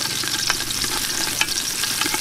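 Ginger, garlic and onion sautéing in a pan: a dense, continuous sizzle with light stirring scrapes and small pops, close and fairly loud.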